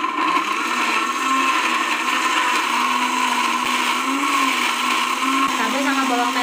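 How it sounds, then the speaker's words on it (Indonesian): A blender grinds red chilies and shallots into a spice paste for Indonesian oseng mercon, a loud, steady whirring drone running continuously close by with no talk. "Kita blender sekarang ya."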